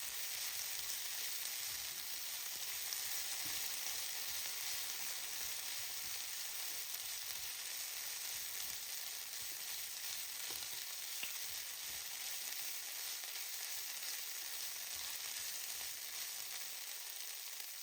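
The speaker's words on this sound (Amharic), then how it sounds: "ግማሽ የሾርባ ማንኪያ ቅቤ ተጠቅሜ ያለው እሱን እናደርግና እናዋህደዋለን" Meat fries with butter in a pan, giving a steady, even sizzle that holds at constant loudness throughout, with no voices over it.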